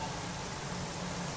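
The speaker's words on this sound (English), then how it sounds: "The rain strikes again." Steady rain in a Tour de France cycling video game, a continuous soft hiss of falling drops with no voices over it.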